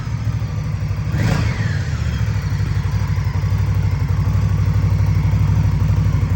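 A 2024 Indian Scout ABS motorcycle engine idles loud and close with a deep, steady, throbbing pulse, broken near the start by one brief rising rev.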